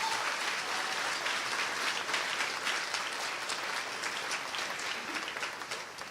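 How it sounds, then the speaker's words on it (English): An audience at a talk about mental health applauds in a sustained, even patter of many hands, moderately loud and gradually fading over about six seconds. "I forced that applause."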